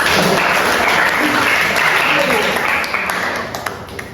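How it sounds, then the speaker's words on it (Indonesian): A classroom of students claps together, a thick, loud wash of applause that stays full before thinning out toward the end, with voices mixed into the noise. "Ya, boleh tepuk tangan untuk kalian."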